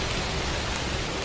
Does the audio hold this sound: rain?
yes